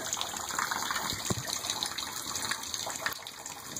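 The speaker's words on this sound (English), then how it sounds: "My bath's not even filling up." Water from a faucet gushes steadily into a bathtub whose plug is not in, a continuous, fairly soft splashing stream with no talking.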